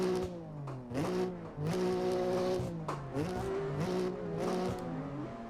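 A BMW G82 M4 driven hard, its engine revving up and down in repeated surges with tire squeal mixed in, loud and close throughout, no talking.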